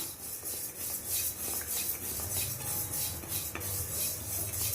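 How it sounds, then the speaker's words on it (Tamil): Moong dal is stirred as it dry-roasts in a pan, making repeated soft scraping and rustling strokes at a steady rhythm, fairly quiet and close, with no voices. "இப்போ வந்து இதில் வந்து இந்த பைத்தம் பருப்பு இருக்குது பாருங்கள் இதை நம்ம கொஞ்சம் லைட்டாக வறுத்துக்கிடுவோம்"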